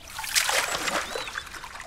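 Water trickles and splashes while containers are filled with unsafe water in the survival video game Mist Survival, a close, continuous burbling with small splatters.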